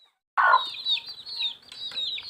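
A Lukkoy Panat game-fowl mother hen gives one loud cluck, then her nine chicks keep up a continuous chorus of high, close peeping.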